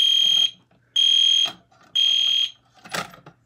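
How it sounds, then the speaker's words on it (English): Fire alarm blaring after its cover is opened: three loud, steady high-pitched tones of about half a second each with short gaps, followed by a brief harsh burst of noise. "Nothing wrong with opening a fire alarm."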